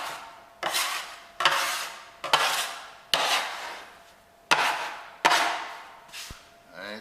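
Bread dough for an imitation artisan loaf being scraped in a home kitchen, in six or seven separate rasping strokes, each starting sharply and trailing off, close and fairly loud with no talking.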